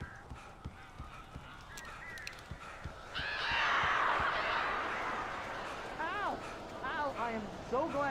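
Birds honk in the video game Alan Wake, rough goose-like calls rising in repeated bursts over a loud whooshing surge and scattered thuds, with talk heard in the clip.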